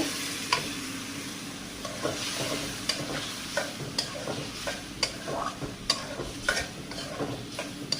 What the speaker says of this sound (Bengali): সিলভার কাপ মাছ দিয়ে আলুগুলো কষিয়ে নিচ্ছি